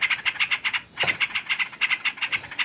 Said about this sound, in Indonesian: burung sedang merasa terancam karena telurnya dari tadi saya lihat, jadi dia bunyi terus